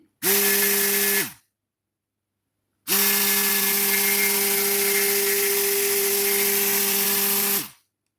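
Battery-powered string trimmer, converted to rechargeable cells, whirring in two loud close bursts, a short one and then a longer steady run, each spinning up and winding down, with silence between.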